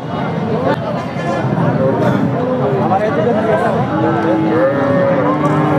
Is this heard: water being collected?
no